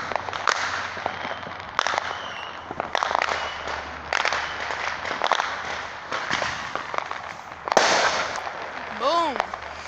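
Firecrackers going off on a street on the Fourth of July, sharp scattered bangs and pops at irregular intervals, some near and some farther off, with people talking between them.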